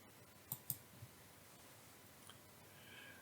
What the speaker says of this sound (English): click the Create button